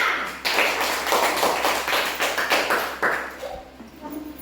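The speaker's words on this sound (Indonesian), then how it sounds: "Tepuk tangannya." Group of students clapping hands in a classroom activity, a lively, close burst of quick claps lasting several seconds with a slightly uneven rhythm.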